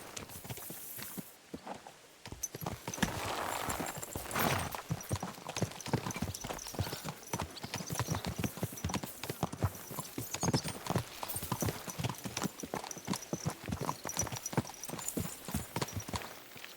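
Horse hooves clip-clop in a steady walking rhythm throughout a ride in the medieval video game Kingdom Come Deliverance 2, close and even, with a faint murmur of background voices.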